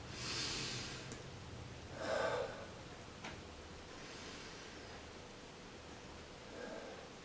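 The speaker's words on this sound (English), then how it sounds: "Then 2 deep breaths." Two deep breaths, each a long airy inhale and exhale, close and soft against a faint hiss, with a final quieter breath near the end.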